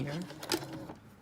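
A sewing machine stitches a seam straight down after turning at a corner, a steady mechanical whir close by and partly under a speaking voice.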